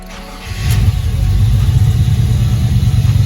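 A 1995 Chevrolet Impala SS engine cranks and catches about half a second in, then settles into a loud, steady, close rumbling run with no talking over it.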